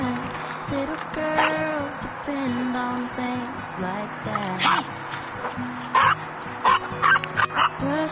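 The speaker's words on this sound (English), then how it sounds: "Who are you barking at?" A fawn French bulldog puppy gives a string of small high yips and short barks with whimpery notes, close and fairly quiet, interspersed with someone talking to it in a soft voice.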